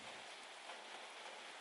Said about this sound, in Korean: 아침부터 비가 오기 시작합니다.